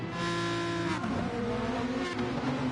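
Several race car engines in a video game rev loudly together at the start, a dense, sustained engine roar with pitches rising and shifting as the cars build power.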